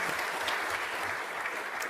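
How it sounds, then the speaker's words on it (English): Audience applause during an opening session of an evaluation practice exchange conference, a brief, steady, even wash of clapping from a sizable crowd, moderately loud with no speech. "do you want to give her a round of applause?"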